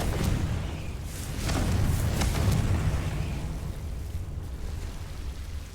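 Confringo spell explosion in Hogwarts Legacy, a deep rumbling blast that swells and fades, with a few sharp bursts on top and no talking.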